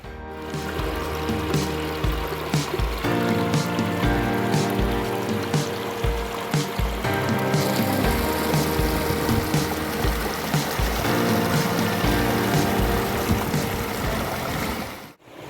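Water in a stream near Vijay Sagar Dam in Mandvi, Kutch, runs over black rocks. It makes a continuous close rushing and splashing with scattered droplet patters, steady throughout and with no voices.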